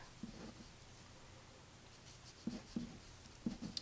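Pen writing on a weekly schedule worksheet, faint scratchy strokes in a few short bursts, close and quiet with no talking.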